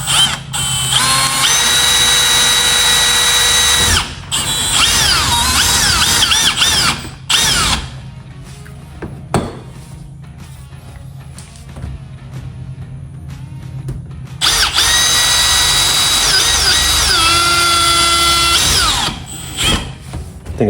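A power drill with a 13/64 bit whines loudly as it drills out plastic rivets on the grille of a 2011-2018 Jeep Grand Cherokee WK2. There are two long drilling bursts close by, separated by a quieter pause.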